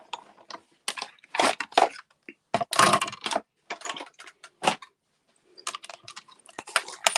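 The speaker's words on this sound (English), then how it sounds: "just going to cut that piece out" A die cutting machine cutting a piece out for a self-closing treat box, heard as bursts of close crunching, clicking mechanical noise separated by short pauses, with no talk.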